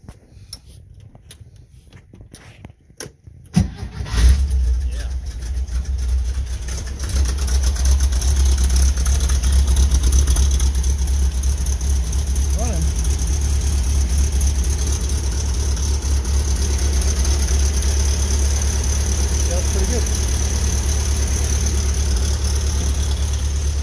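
An old car cranks and fires up inside a garage packed with other cars, a few clicks and a sharp catch followed by a loud, steady rumbling idle that settles and holds close by.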